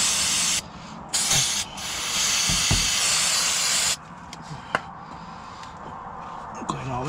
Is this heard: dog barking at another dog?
no